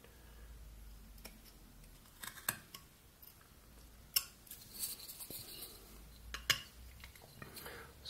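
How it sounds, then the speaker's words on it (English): A whittling knife carves into wood up to a stop cut, giving quiet scattered clicks and short scraping snicks with pauses in between, close and faint, with no talk. "Just cut up to the stop cut you made."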